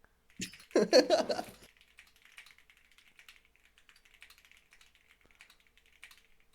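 Rapid typing on a computer keyboard during a Monkeytype typing test, a brief dense burst of loud clicking followed by a long stretch of fainter, steady key taps, with no talking.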